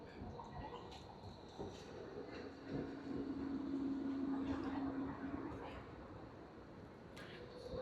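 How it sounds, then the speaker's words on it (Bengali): Tram pulling into a stop in Vienna, a low rumble that swells and carries a sustained humming tone from the motors and wheels as it draws near, with faint street noise around it and a voice briefly speaking. "ট্রাম চলে আসছে।"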